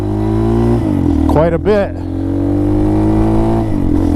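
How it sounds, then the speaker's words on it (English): Hawk DLX 250 motorcycle with a Moto Cult tune, its engine droning loud and close and then climbing in pitch as it accelerates, while someone speaks briefly over it partway through. "bike's accelerating normally like it should have from the factory"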